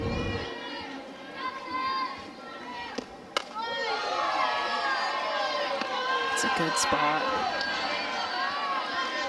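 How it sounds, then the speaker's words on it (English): A softball stadium crowd at a Big 12 Championship game between Oklahoma and Iowa State voices its displeasure in a steady, loud rumble of massed voices that fills the whole stretch. A commentator talks over it. "Crowd isn't happy about it"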